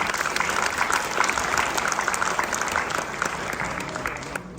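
Audience applause at an annual community event, a dense steady wash of many hands clapping close by, holding strong before easing slightly toward the end.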